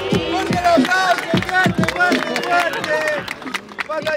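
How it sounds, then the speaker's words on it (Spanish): Audience at a freestyle rap battle league event cheering and clapping after a round, with loud rhythmic claps, shouts and crowd noise mixed with voices. "¡Tiempo! ¡Fuerte el aplauso!"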